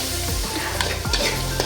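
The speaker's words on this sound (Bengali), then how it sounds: "পেঁয়াজটা ভাজা হতে থাক আর তরকারির ঝোলটা ফুটতে থাক।" Onion fries in oil with salt in a pan, a loud dense sizzle with spatula scrapes and stirring knocks over a brief moment, no one speaking.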